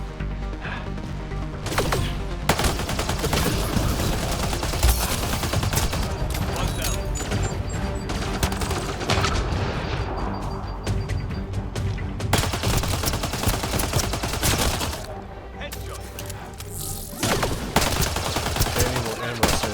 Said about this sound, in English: all the bullets are going all over the place